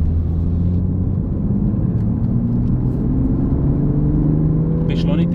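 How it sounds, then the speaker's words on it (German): Toyota Supra MK5 A90 accelerating hard through one gear on a closed track during a power run, its engine drone climbing steadily in pitch, loud and close throughout. "Beschleunigt den Gang komplett aus."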